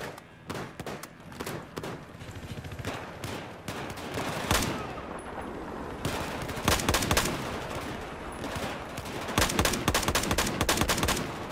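Gunfire from Battlefield 4 cracks out in scattered single shots and rapid bursts over a low ambient rumble, loud and close throughout with brief gaps between volleys.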